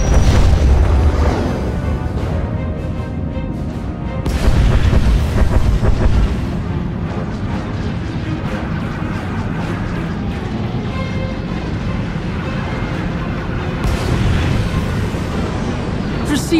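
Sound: space battle bombardment explosions in Star Wars: The Old Republic video game

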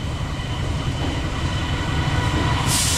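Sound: Malabar passenger train passing through Cibatu station

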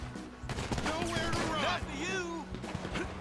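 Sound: gunfire in video game GTA V

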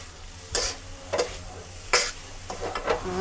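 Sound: stir-frying noodles with bean sprouts

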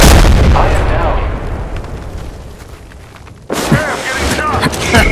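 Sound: gunfire from video game Apex Legends

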